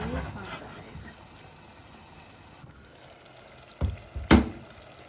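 Liver frying in a pan with saffron, black pepper and garlic, a steady low sizzle up close, broken near the end by a couple of sharp clattering knocks, with a voice speaking.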